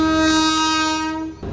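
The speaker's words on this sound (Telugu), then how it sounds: "ఒక ట్రైన్ అయితే వస్తుంది. So locomotive వ్యాప్ 7 Lingampalli to Kakinada port అయితే వెళ్తుంది" A WAP-7 electric locomotive hauling a train toward a station on the Lingampalli to Kakinada Port run sounds a long, loud, steady horn blast at close range, which cuts off near the end as rail noise continues.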